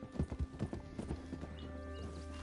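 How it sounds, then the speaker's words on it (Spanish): Horses gallop in Red Dead Redemption 2 Online, with a run of rhythmic hoof clip-clops up close that fades into a steady background rush. "Los caballitos corriendo."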